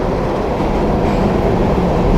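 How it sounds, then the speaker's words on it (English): A Miami Metrorail train rolls by at Coconut Grove station heading south, a loud, close, continuous rumble of wheels and cars that holds steady throughout with no talking. "that is the train going south"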